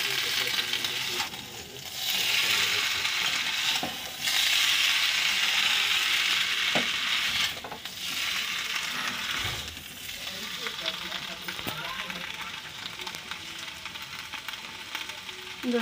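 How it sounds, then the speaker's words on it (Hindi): Potato fry with salt and green coriander sizzles in a pan as it is stirred, a loud, steady hiss broken by scraping strokes and brief pauses, with a voice faintly heard. "अब इसको मैं अच्छे से चलाऊँगी।"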